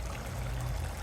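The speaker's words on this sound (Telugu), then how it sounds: "కొన్ని నీళ్ళు పోద్దాము" Water is poured into a pot of mutton curry with tamarind leaves, a steady low gurgling trickle running continuously and close by, fairly quiet and with no voices.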